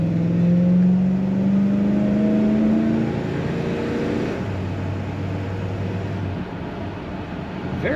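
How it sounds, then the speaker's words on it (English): A 1966 Chevrolet Caprice two-door hardtop accelerating on the road, its engine note rising steadily and loud for the first few seconds before settling into a lower, steady drone with road rumble and wind. "Very nice throttle response from this car. Good acceleration."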